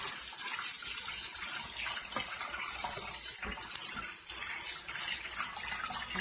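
Cool tap water runs steadily onto turnip greens being washed in a sink, a continuous close hiss and splash that stays alone and fairly even in level for the whole stretch.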